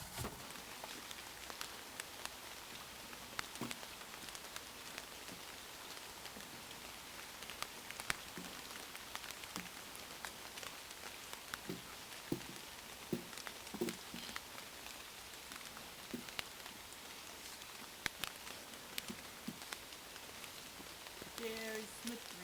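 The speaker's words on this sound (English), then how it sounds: "Very slippery. The rain." Rain falls on a forest trail on the Appalachian Trail in Connecticut, a soft constant patter with scattered sharper drips, fairly quiet and close throughout.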